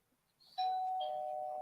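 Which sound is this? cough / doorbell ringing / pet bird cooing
doorbell ringing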